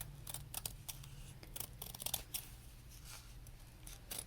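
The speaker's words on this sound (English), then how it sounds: "these are not my sewing scissors, to just kind of roughly cut that out" Scissors snip through material to roughly cut out a shoe heel cup, giving a rapid series of crisp, close cutting clicks and rustles over a low background hum.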